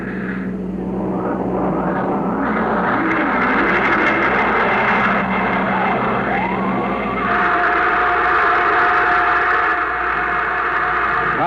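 A rocket engine blast in a radio drama roars loud and continuous, a dense sustained rumble with shifting tones that swells and holds steady throughout, heard alone without talk.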